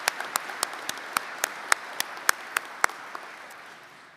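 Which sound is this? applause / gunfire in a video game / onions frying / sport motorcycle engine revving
applause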